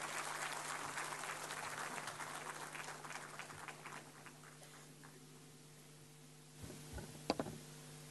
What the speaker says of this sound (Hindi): तालियों से स्वागत करें माननीय मंत्री जी का.